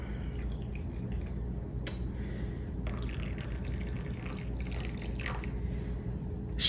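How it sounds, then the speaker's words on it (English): Water trickles and drips steadily into a jar from close by, soft and continuous, with a few brighter splashes breaking through and no talk over it. "it looks like I can add a little bit more water in here"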